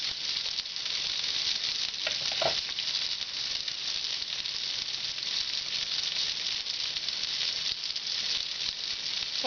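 A little oil heats in a pan on the stove for Kerala-style beetroot pachadi, producing a faint, steady hiss and sizzle with a brief clink early on.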